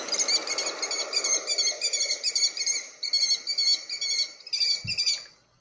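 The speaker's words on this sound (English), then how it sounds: "A kestrel is a type of bird." A kestrel calls in a rapid series of sharp, high chirping notes, loud and close, repeating in quick bursts with a short pause before a final run and a soft thump at the end.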